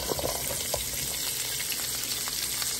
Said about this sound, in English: Then first you're gonna stir fry your sausage.